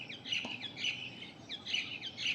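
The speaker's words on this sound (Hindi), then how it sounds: "कोई पक्षी की आवाज" Birds chirp and tweet outdoors on a calm morning during a yoga session in Chandigarh, with repeated bright call phrases close by and steady over a faint background hum.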